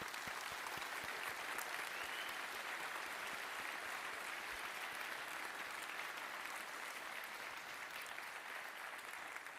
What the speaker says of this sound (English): I would like everyone to applaud every participant.